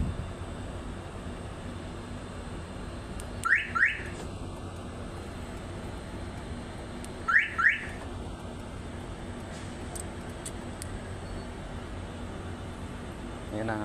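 Toyota Vios second-generation car alarm sounding during an auto start test: two short paired chirps several seconds apart, moderately close, over a steady background hum.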